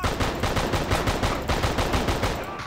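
Rapid automatic gunfire from the video game Just Cause, a continuous stream of close, loud shots in an even rhythm across the whole stretch.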